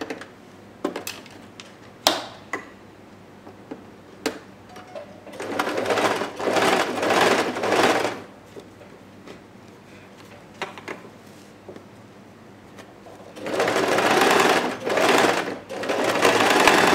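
Sewing machine stitching an umbrella dress, running in several bursts of rapid mechanical whirring, two long runs and shorter ones, separated by quieter handling clicks and pauses, close and loud.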